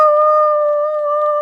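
A voice imitates a wolf howl, holding one steady, loud, pure tone for about a second and a half with nothing else audible.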